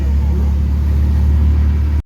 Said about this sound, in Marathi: रिक्षामध्ये चाललो आम्ही.